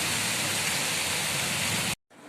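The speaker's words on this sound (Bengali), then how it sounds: "এখনও বৃষ্টি হচ্ছে" Steady evening rain pours down in a dense, even hiss, loud and continuous, before cutting off abruptly near the end.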